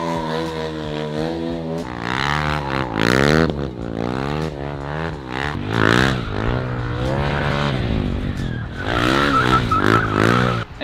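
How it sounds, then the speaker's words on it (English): A motorcycle doing a basic stationary burnout, its engine revving hard and rising and falling in pitch over and over, with a rough scraping hiss of spinning tire underneath, loud and close throughout. "Okay, Dominic, that's the burnout."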